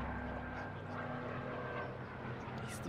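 A WWII-era plane, a D5 Stuka with autocannons in Arma 3, drones steadily nearby, its engine a continuous loud hum with faint game background noise.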